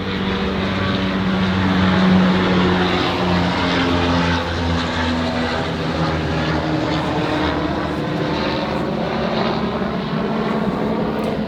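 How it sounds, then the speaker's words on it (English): A low, droning helicopter engine with a steady rotor-like throb passes overhead, loud and continuous throughout, with no voices. "I'm gonna let the helicopter go by actually, so you can hear me"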